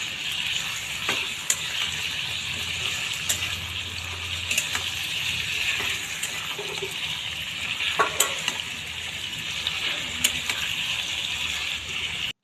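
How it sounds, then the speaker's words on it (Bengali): Chicken meat frying in a hot pan for a Bengali chicken kosha, with a steady broadband sizzle and scattered clinks and scrapes of stirring throughout, fairly close and without talk. "এবার মাংস অ্যাড হচ্ছে। মাংসটা একটু নাড়িয়ে নিচ্ছি।"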